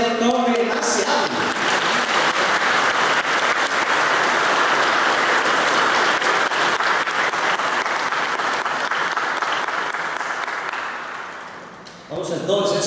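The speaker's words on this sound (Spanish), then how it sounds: "hoy reciben un aplauso de confirmación" A church congregation applauds confirmation recipients at a Catholic Mass in Plant City, Florida, a sustained dense wash of clapping that tapers off near the end, with brief speech at the start and finish.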